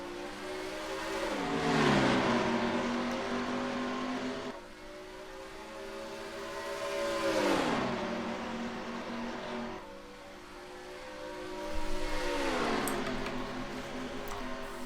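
Race cars roar past at a green flag restart at Texas, engines rising and falling in pitch as packs sweep by in several loud waves of accelerating, droning motors.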